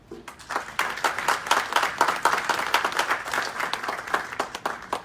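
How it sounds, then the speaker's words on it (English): Audience applause at a city council meeting in Aurora, with a moderate, steady patter of many hands clapping throughout and scattered sharper claps standing out, no talk over it. "let's give them a round of applause individually"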